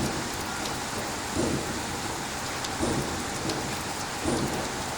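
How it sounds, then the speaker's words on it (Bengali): Heavy morning rain pours steadily over a rooftop garden, with water running off the roof. The close, dense patter swells into soft low rumbles every second or so, and no voices are heard. "হঠাৎ সকাল সকালই অনেক বৃষ্টি হচ্ছে।"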